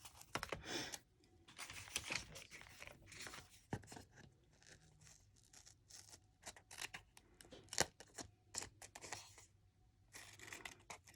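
Repeated snipping and crisp cutting sounds from scissors, irregular short bursts close by with quiet gaps between, no talking.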